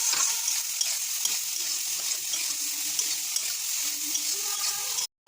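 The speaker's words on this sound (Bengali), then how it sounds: "সমস্তটা দিয়ে ভালো করে নাড়িয়ে চাড়িয়ে নেব।" Soybean chunks fry in a pan with salt, turmeric and cumin powder while a spoon stirs them, a steady close sizzle with scraping strokes throughout, no talk, ending in a brief sharp burst.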